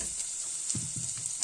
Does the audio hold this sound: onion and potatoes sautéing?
yes